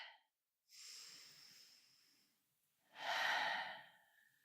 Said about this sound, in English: I just want to start this episode with a really deep breath